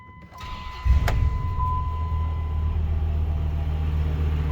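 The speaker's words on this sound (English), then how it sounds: "Let's fire it up and let you hear it run." A 2005 Ram SRT-10 Viper truck's V10 engine is started with a push button: a steady electronic chime, then the engine catches with a sudden deep roar and settles into a rumbling idle.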